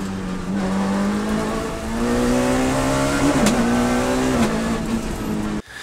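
A Saxo Kit Car rally car corners, brakes and accelerates, its engine note loud and close, climbing and dipping through the revs before cutting off abruptly at the end.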